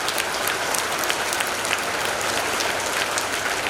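Sustained applause from a live audience at a Hindi spiritual discourse on the Hanuman Chalisa, a dense even patter of many hands clapping steadily throughout, with no speech over it.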